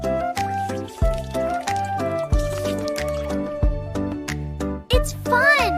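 Cartoon-style dripping and sloshing water as a child rinses the mouth during wudu, with a repeating pattern of bright drips and gurgles over a steady musical backing.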